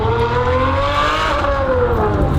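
A tuned 600hp Ferrari V12 with a Gintani tune drones at steady revs, a smooth, high harmonic engine tone held loud and close for a couple of seconds with a slight rise and fall in pitch.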